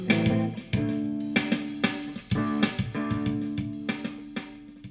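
A clean guitar plucks a short melodic phrase in the Dorian mode, with notes sustaining and ringing together, close and moderately loud, no voices.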